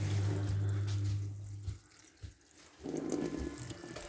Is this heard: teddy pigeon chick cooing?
no